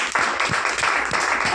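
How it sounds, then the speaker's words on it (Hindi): An audience applauds the organisation's MD at a ceremony: a loud, close burst of clapping that fills the short moment, with a hint of voices beneath it. "इनके लिए एक बार जोरदार तालियां।"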